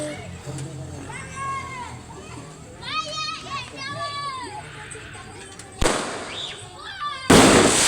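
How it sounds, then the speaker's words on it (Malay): Children chatter and call out during Hari Raya celebrations, then two sharp firecracker bangs burst out a moment apart, the second one loud and close. "main merecun bunga api selama hari raya"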